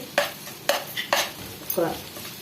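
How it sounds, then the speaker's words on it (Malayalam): Onions being sautéed with a pinch of salt in oil in a pan for a chicken roast: a few sharp spoon scrapes and clinks against the pan over a steady low sizzle, close by. "ക്ലിയർ ആകുമ്പോൾ ലേശം ഉപ്പ് ലേശം ഉപ്പ് ഇട്ടിട്ട് ഒന്ന് വഴറ്റണം"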